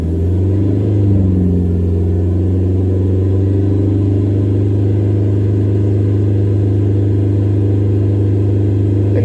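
A car engine holds steady at 3000 RPM, giving a loud, constant droning hum close by with no change in pitch and no talking.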